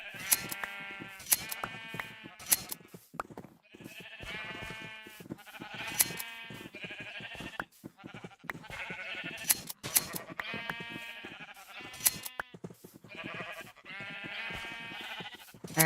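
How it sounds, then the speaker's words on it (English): Minecraft sheep bleat repeatedly in the video game, a series of wavering, nasal baas coming one after another at a steady, fairly loud level with no talk over them. "Hearing sheep."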